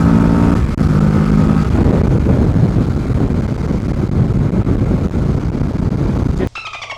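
A Kawasaki Ninja 650 ridden hard roars steadily under heavy wind buffeting, the engine drone continuous and loud with a brief higher-pitched gear pull early on, ending with an abrupt drop in level.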